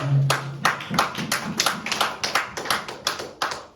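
A church congregation clapping together to acclaim the king of kings, rhythmic hand claps in a steady beat, close and lively, with no talk over them.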